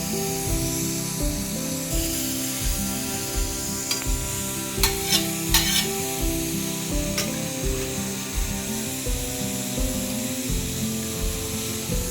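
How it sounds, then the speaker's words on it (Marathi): Bombil fish coated in a semolina mixture fry on a flat tawa, making a steady, moderate sizzle with a few sharp clicks near the middle. A tonal musical background plays throughout. "हे जे बोंबील आहेत त्यांना हे रव्याचं जो मिश्रण तयार केलेलं आहे त्याच्यामध्ये मी मिक्स करेन आणि मग तव्यावर फ्राय करायला घेईन"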